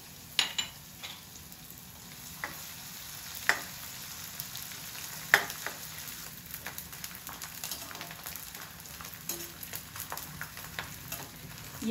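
Gond, an edible gum, fries in a pan for gond pinni, producing a steady low sizzle with scattered sharp pops and clicks from stirring across the clip.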